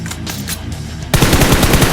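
Automatic gunfire in the PUBG Mobile battle royale game, a rapid, loud burst of machine-gun shots that cuts in suddenly and rattles on steadily to the end.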